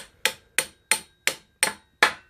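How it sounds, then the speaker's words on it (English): A small hammer taps lightly on a mini bike part being fitted, six sharp metallic knocks at an even, unhurried pace, close and clear with nothing else heard. "just tap it lightly with a little hammer"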